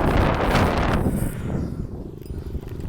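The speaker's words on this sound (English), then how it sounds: "it's very windy now." Strong wind buffets the microphone on an open beach at Cedar Beach, Long Island, producing loud, rumbling gusts that surge and ease without pause.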